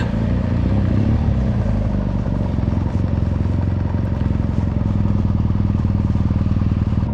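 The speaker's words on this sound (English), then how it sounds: "we have got engine noise." A motorcycle engine idles loudly and steadily nearby, its low rumble continuous throughout with slight rattling.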